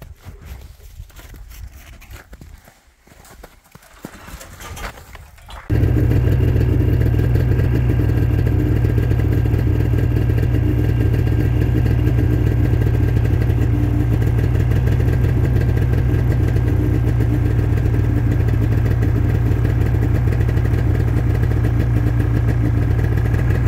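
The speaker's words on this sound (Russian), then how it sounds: "я ехала рядом на снегоходе" A snowmobile engine starts up and then runs steadily and loudly at a constant drone while towing a beehive pavilion across snow, close by and unbroken for the rest of the clip after a few quiet seconds of rustling.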